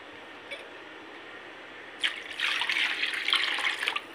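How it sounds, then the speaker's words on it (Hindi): Water pours steadily into a bowl of whisked yogurt while Punjabi curry is being prepared. The splashing, gushing stream starts abruptly after a quiet moment and runs for a couple of seconds. "ये पानी ऐड कर दिया है, अब इसमें डालेंगे हम बेसन।"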